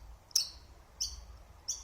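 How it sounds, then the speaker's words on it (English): A small bird gives three thin, high chirps spaced roughly evenly apart, faint against a low background rumble, with no one speaking. "the birds are twerping really loud"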